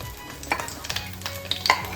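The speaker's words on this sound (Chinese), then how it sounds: "接着把蛋和虾倒到锅里，不用太大的火" Eggs and shrimp tossed into a wok over moderate heat, a soft sizzle under scraping stirs and light clinks of the spatula, close and brief, no voices.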